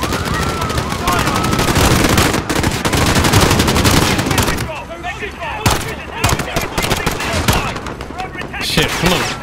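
Rapid bursts of automatic and single-shot gunfire in the shooter game Call of Duty Modern Warfare 2019, loud and dense for the first half, then sparser sharp shots with lulls over ambient battle noise.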